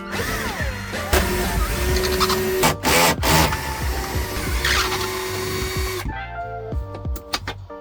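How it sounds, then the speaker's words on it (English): A power drill whirs in bursts close by, revving and stopping between short pulls as it removes the back bolts on a Jeep Wrangler JL, with clanks of metal parts and no talking. "either attach it to a drill or use the provided socket from the Jeep kit to remove all 4 back bolts"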